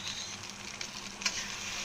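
Soybean chunks stir-fry in hot oil in a wok, a soft, steady sizzle with a brief stirring scrape partway through, quiet and close with no talking.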